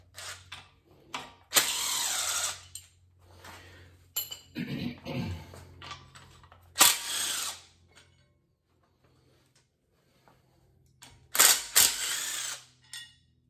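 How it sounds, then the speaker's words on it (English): Tools work on a Subaru WRX engine during a rebuild as the turbo bracketry comes off, producing separate bursts of ratcheting and mechanical clicks broken by quiet gaps, close and without talk. "Let's pull off the bracketry for the turbo now."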